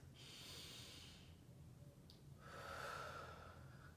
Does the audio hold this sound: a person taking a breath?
yes